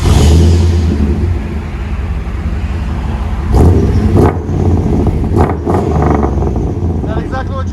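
Exhaust of a Chevy Silverado 5.7L V8 fitted with aftermarket Flowmaster Super 10 or MagnaFlow mufflers and angle-cut tips, a steady loud rumble with a few sharp revs, voices talking over it.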